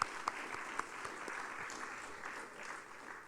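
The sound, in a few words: audience applause for the Vice Chancellor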